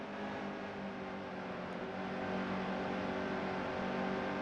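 A race car engine in the NASCAR Heat 2 video game drones at a constant, loud pitch without letting up, with no voices over it.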